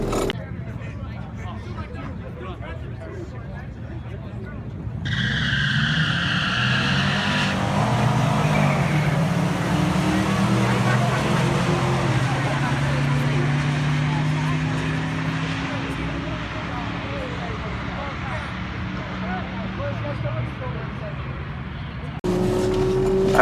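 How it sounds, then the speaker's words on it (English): An LS-swapped Mazda B2200 pickup makes a drag strip run, its engine roaring as the tires spin through first gear into the rev limiter before the shift to second, then fading into the distance. "I pretty much hazed the tires all the way through first, right into the rev limiter, and grabbed second."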